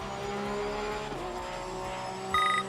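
Porsche 991 II race car in Assetto Corsa Competizione at Kyalami, a steady engine drone with shifting harmonics, a brief dip as revs change, then a sharper whine near the end.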